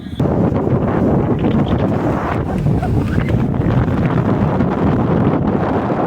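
Strong cyclone wind buffets the microphone at Kovalam beach on Chennai's East Coast Road, a loud, constant roaring rush with no pause, blotting out any other sound.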